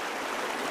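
A shallow river stream flows steadily outdoors in windy conditions, a continuous broadband rush of moving water heard alone and at moderate level.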